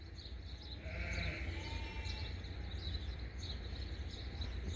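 Sheep on a farm bleat in a few short, moderately distant calls over a steady outdoor background with faint bird and insect sounds.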